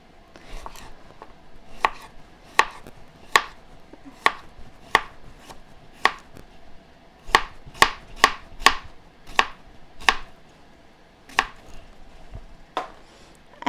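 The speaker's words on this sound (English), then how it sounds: "I'm just gonna slice them." A knife slices vegetables for shawarma on a cutting board, a steady series of crisp, close chops in uneven bursts, some spaced apart and some quick together, with no talking.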